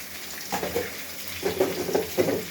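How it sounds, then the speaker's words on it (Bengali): Fish coated in turmeric and ground ginger, garlic and cumin paste sautéed in a pan for bottle-gourd fish pulao, giving a low, soft sizzle with a few gentle stirring bursts close by, no voices. "তারপরে মাছটাকে একটু কষাই নেব।"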